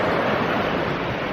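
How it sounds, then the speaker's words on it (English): Ocean surf rushing and washing around coastal rocks, a steady broadband roar of breaking water with some wind noise, close and loud throughout with no voices. "to capture the water rushing around these rocks here"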